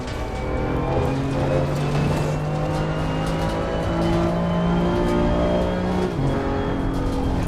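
Race car engine in the racing sim Assetto Corsa Competizione, one of the Challengers Pack DLC cars, roaring loud and close with revs climbing and dropping through gear changes.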